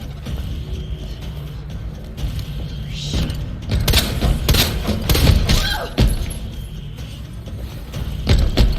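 Gunshots in Resident Evil 2 Remake aimed at a zombie's head, several sharp booming thuds at irregular intervals over a busy layer of mechanical clanks and game noise.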